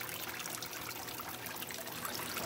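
Water trickles steadily in an aquarium waterfall tank, a constant, soft splashing and dribbling heard close up and alone.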